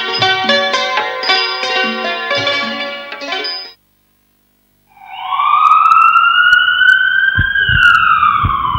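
After a burst of music and a brief silence, a loud wailing emergency vehicle siren rises and sweeps steadily, close by, with some rumbling underneath.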